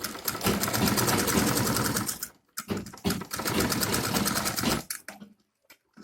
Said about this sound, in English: So you take it to the sewing machine again and just run a stitch here just to create a partition.